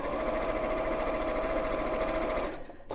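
A sewing machine runs steadily, stitching a seam at about a quarter-inch allowance on fabric for origami decorations, a continuous close whir that stops near the end.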